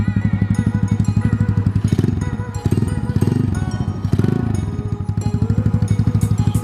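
A Honda Ruckus scooter fitted with a carbon Yoshimura exhaust pipe runs close by. Its rapid, even engine pulses thump out a lumpy idle with a few slight surges, and there is no talk.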